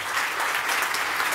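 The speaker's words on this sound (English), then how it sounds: "Please give a round of applause for our great panel." A conference audience at the Brussels Forum 2015 applauds a panel, with a continuous wash of many hands clapping, steady and fairly close throughout.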